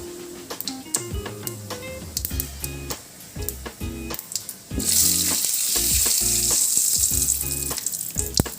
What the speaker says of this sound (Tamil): கடுகு பருப்பு சேர்த்துக்கலாம் கடுகு பொரியட்டும்